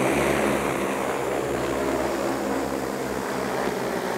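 DJI Agras T10 agricultural spraying drone spinning up its motors for takeoff, a loud steady broadband whir with a low drone and buzzing propeller hum, continuous and close throughout.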